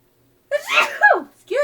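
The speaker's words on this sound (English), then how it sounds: "I'm going to sneeze." A single sharp sneeze bursts out after a moment of silence, followed by a short breath.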